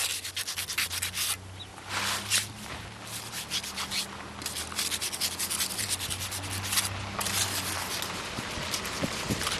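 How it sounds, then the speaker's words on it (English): A trowel scrapes across the top of a freshly tamped adobe brick mixed with sticks and styrofoam. Close, gritty rubbing strokes repeat steadily with no pause. "Tamp the sticks and the styrofoam down into the brick and then trowel off the top."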